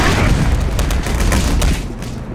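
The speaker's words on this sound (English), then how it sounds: "Another grenade" Grenade blast in the shooter game Black Mesa, a loud burst followed by a rumbling, crackling tail with scattered smaller pops and gunfire-like bangs, fading slightly toward the end.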